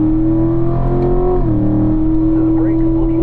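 Race car engine on a circuit at a driving school, pulling steadily downhill under throttle with a strong sustained drone that dips briefly then resumes, heard from inside the car under a driving instructor's talk.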